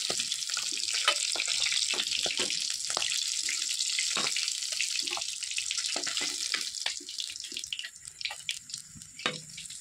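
Running tap water splashes steadily over potatoes and eggplants being washed by hand, with the flow breaking into irregular splashes and drips near the end, close and alone.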